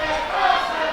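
A wrestling crowd in Cornelia roars during a six-man tag match, a dense and loud wash of cheering and shouting voices that holds steady for the whole second.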